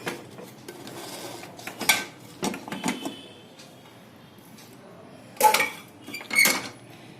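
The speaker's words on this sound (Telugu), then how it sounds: "ఒకసారి మూత కూడా ఓపెన్ చేసుకుని లోపల కూర ఎలా ఉడికిందో చూసుకుందాం." Metal clinks and scrapes come as the lid of a pot of prawn and egg curry is lifted, a few sharp close clatters scattered among quiet stretches.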